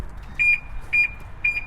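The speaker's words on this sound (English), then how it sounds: "Oh, that's the alarm." A BMW car alarm sounds in three short, evenly spaced high beeps, each with a quick double pulse, over a low background rumble with no talking.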